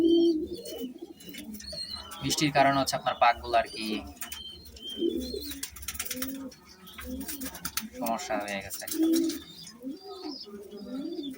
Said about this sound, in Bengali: কবুতরটা